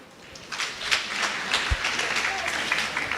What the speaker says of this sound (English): If you come from outside OR Tambo, would you clap your hands and appreciate OR Tambo for hosting us?